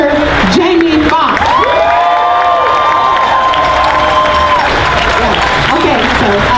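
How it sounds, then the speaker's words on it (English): Large outdoor crowd at a San Francisco racial-justice rally applauds and cheers loudly and continuously, with whoops and raised voices rising over sustained clapping throughout. "Now clap it up for Mr."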